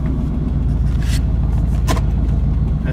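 A Terra Jet utility vehicle's engine rumbles loudly and steadily as it backs up toward a tent, a dense low drone with a couple of brief higher whines and rattles riding on top.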